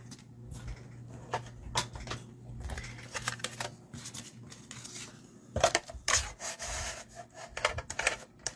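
Paper for a stamped card is trimmed with a paper trimmer, giving irregular sliding, scraping and rubbing strokes with soft clicks and taps, close by and fairly quiet.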